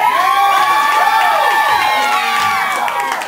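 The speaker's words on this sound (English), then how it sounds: "You hear all these cheers" A crowd at a wrestling event cheers and shouts loudly and continuously, a dense wall of voices with whoops rising and falling throughout.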